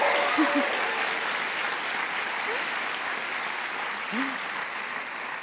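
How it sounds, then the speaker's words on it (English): Audience applause after a screenplay reading and conversation event, a steady wash of many hands clapping at even volume, with a few faint voices calling out within it. "Can we have another round of applause for Lacey and John?"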